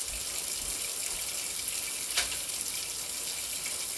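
Water runs steadily from a tap in a soft, even hiss, fairly faint and uninterrupted, with no talking.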